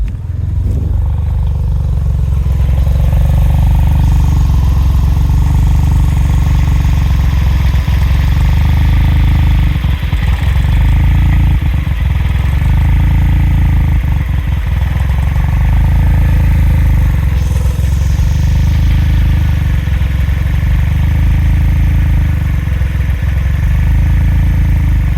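A Suzuki Cara Autozam AZ-1 idles close by, its small engine holding a loud, steady low rumble with slight unevenness throughout.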